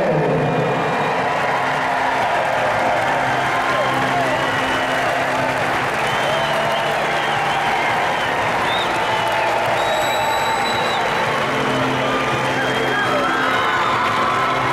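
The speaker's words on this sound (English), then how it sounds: "please join me celebrating with a big round of applause" Awards audience applauding and cheering for kicker Dustin Hopkins, sustained loud clapping with whoops and shouts from a crowd, continuous across the whole stretch.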